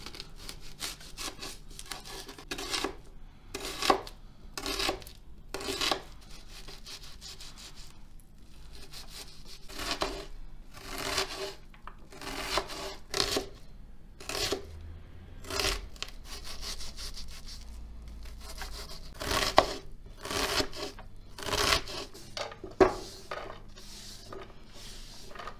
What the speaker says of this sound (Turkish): 1 adet kuru soğanımızı çok ufak bir şekilde doğruyoruz